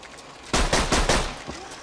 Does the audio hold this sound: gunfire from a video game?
yes